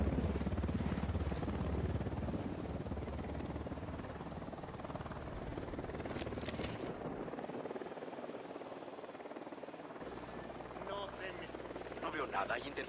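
A helicopter approaches in the video game Ghost Recon Wildlands, its rotor drone rumbling low and steady beneath in-game voices, then briefly cutting out before returning near the end.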